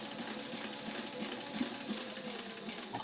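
A sewing machine stitches fabric with a steady, close mechanical whir that runs unbroken from start to end, with no voices over it.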